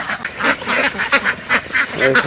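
Ducks on a duck farm quack loudly and repeatedly at feeding time, a close, busy run of overlapping nasal calls with no pause.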